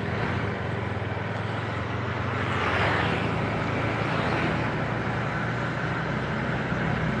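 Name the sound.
Honda CBR motorcycle engine running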